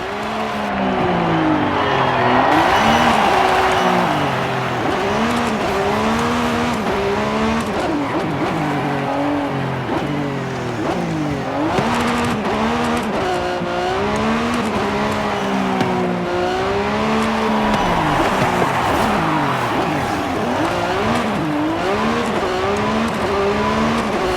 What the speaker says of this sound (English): that's how the Revuelto sounds on Forza Horizon 5